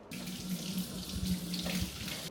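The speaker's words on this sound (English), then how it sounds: "I'm gonna water this right now." Tap water runs steadily from a faucet to water a houseplant, a continuous close hiss and splash with a faint low hum beneath, ending abruptly.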